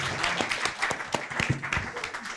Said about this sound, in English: we'll give a round of applause to Libby in any respect.